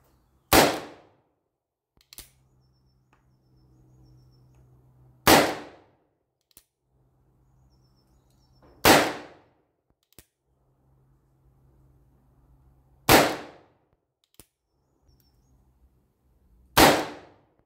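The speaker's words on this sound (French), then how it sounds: "Et c'est parti pour 5 cartouches d'essai." Five pistol trial shots at a 25 meter sport shooting range, each a loud sharp crack spaced roughly four seconds apart, with faint clicks and low background hum between.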